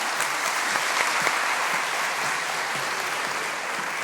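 Audience applause after a keynote lecture by a former Korean minister at a quality concert event, a steady, dense clapping from a large crowd that holds for about four seconds without talk.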